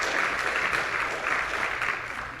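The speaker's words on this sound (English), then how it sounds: "You can clap for that." A crowd applauds at a political speech by Congressman Byron Donalds, a dense, even roar of many hands clapping that holds steady and fades slightly toward the end, with no voices over it.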